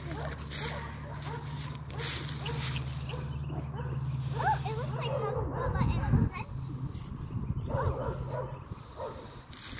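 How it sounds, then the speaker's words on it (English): Several dogs bark and yip excitedly at an outdoor Easter egg hunt with horses, sharp repeated barks and whimpers scattered through the scene while people talk nearby. "the dogs are barking like crazy"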